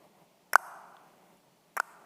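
Two sharp sperm whale echolocation clicks, recorded underwater, each a brief broadband snap followed by a short ringing tail, spaced just over a second apart with faint background hiss between them.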